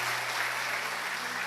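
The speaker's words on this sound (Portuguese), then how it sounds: "Ah, mas aplaude a Jesus mais forte." A church congregation breaks into a brief, dense burst of clapping, a steady wash of many hands heard as one continuous roar of applause.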